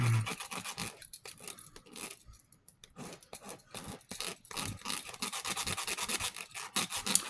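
A key scrapes and tears at the plastic wrap on a comic book pack, a continuous close rasping and crinkling with brief pauses and a final sharper rip.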